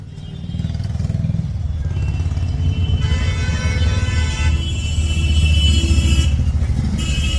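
A busy, jammed road with cars and motorcycles gives a steady, loud engine rumble and clatter throughout, with a brief horn-like tone partway through and no voices.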